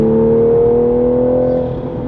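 Exhaust of a manual Toyota Supra with a high flow catted downpipe, a loud, sustained engine drone heard from inside the cabin that holds steady, then eases slightly toward the end.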